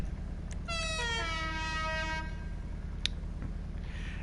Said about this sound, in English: the air horn has become my go-to when it comes to that sort of thing